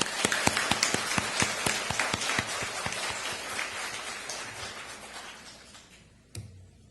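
A church congregation at a women's fellowship service claps in welcome, with sharp distinct claps at first that blur into a dense patter and gradually fade, ending with a single knock.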